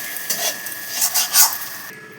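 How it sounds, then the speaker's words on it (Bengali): A spoon scraping and stirring potol stuffing paste as it dries in oil in a pan, several short rubbing scrapes over a faint sizzle, close and fairly clear. "এবার একটু শুকনো করে নাড়িয়ে নেব।"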